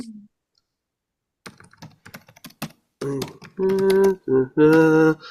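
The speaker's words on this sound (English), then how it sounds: "I'm going to type it in now." Quick clicks of keys on a computer keyboard come in a loose burst, followed by louder tonal, voice-like sounds.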